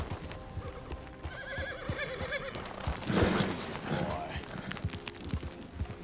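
Horse in the video game Red Dead Redemption whinnies in a clear rising call with hoofbeats clopping steadily beneath, alongside other game ambience and a brief louder burst midway.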